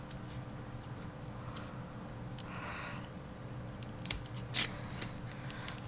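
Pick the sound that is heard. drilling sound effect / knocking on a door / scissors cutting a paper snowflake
scissors cutting a paper snowflake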